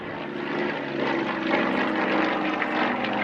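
An aerobatic propeller aeroplane at an air display drones overhead, its engine note swelling steadily louder as the throttle opens, heard from a distance as a broad continuous roar.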